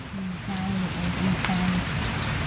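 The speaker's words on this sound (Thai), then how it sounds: "บรรยากาศท่ามกลางสายฝน" Steady rain falls in a forest, a dense continuous hiss of drops on leaves and surfaces, with faint tonal calls and brief ticks showing through the wash.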